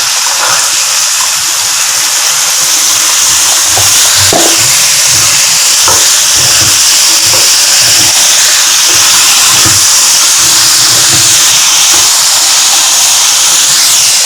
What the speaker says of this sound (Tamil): இப்போ நான் கேரட்டை போடுறேன்.